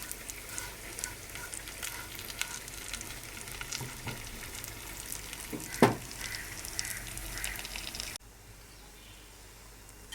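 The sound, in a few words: frying koi fish with onion and green chili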